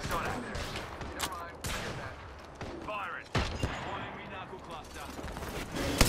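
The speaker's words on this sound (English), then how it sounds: "I'm shooting on them." Gunfire in the Apex Legends video game, with dense bursts of automatic shots and sharp single cracks spread through the clip, loud and close, along with other game sounds and a voice speaking.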